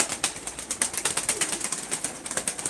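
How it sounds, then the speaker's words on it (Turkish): Spotted crested pigeons at a bird auction flap their wings in quick repeated bursts, with soft cooing mixed in, fairly close and moderately quiet with no talking. "Bakın bu kuşlar."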